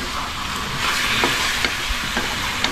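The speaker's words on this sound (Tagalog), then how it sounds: "naluhalo lang natin sa gisa" Sautéed onion and garlic sizzle in a frying pan while being stirred, a steady close hiss with a few scraping knocks of the utensil against the pan.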